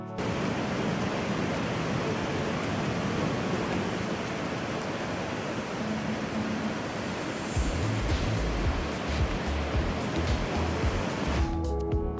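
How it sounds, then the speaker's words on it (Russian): Continuous roar of ocean surf breaking on the shore, loud and steady throughout, with no voices. "Вы послушайте, как успокаивают, казалось бы, такие опасные волны."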